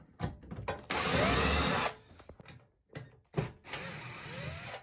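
Power drill backing out the screws that hold a Nutone wall heater to the wall, with short whirring bursts and then a longer sustained run, stopping and starting close by.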